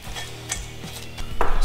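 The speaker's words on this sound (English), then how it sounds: "Now I'm gonna put one bolt in this" Short metallic clicks and a brief scrape as a bolt is set in place while installing a flywheel on a 1979–2004 Ford Mustang, close and sharp with a few separate taps.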